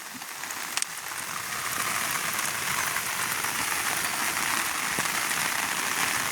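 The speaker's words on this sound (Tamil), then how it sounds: "நேற்று நல்ல மழை இன்றைக்கும் நல்ல மழை பாருங்கள்" Heavy rain pours steadily onto a waterlogged paddy field of newly sown rice in a village, a dense, continuous hiss with faint scattered drips and no voices.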